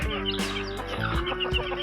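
Chickens clucking around food scraps they are pecking at, a few short clucks and calls close by over a steady low hum.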